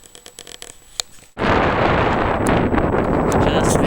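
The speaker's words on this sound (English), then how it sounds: "It's pretty windy" Strong wind buffets the microphone on an exposed mountain summit, a loud, continuous roaring rumble that bursts in suddenly after a quieter stretch of faint rustling.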